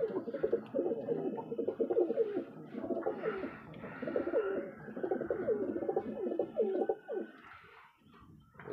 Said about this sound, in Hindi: ये देखें जी ऊपर भी अभी माशाल्लाह काफ़ी कबूतर है।